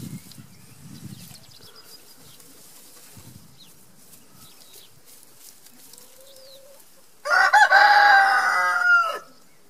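A rooster crows loudly and close by after a stretch of quiet clucking from White Leghorn and Isa Brown laying hens dust-bathing, with faint yard noise.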